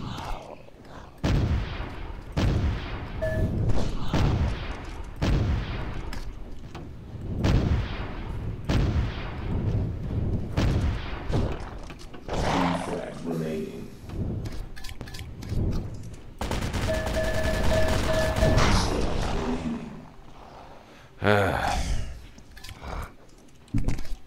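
Rocket launcher shots in the arena shooter OpenArena, a series of sharp booming blasts with explosive impacts repeating irregularly through a busy stretch of game action.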